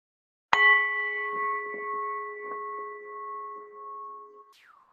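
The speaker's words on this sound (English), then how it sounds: "I'm going to invite the bell to bring us back to this place" A meditation bell is struck once to close a group meditation session, giving a clear ringing tone that sustains and slowly fades over several seconds, alone with no talk.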